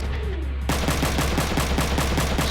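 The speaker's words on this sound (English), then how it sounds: "I'll use the shotgun." Rapid gunfire in Front Mission 3, a steady repeating burst of shots, loud and evenly spaced after a brief quieter lead-in.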